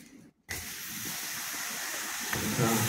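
Steam hissing off molten lava at a lava show in Reykjavik: after a brief near-silence, a broad, steady rushing hiss swells up and holds loud and close, growing slightly stronger toward the end.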